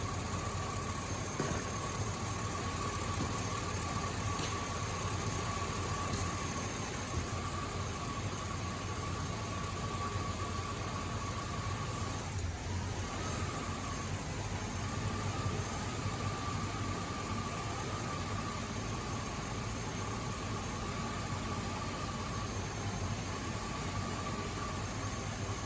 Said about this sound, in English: we're going to run this truck on hydrogen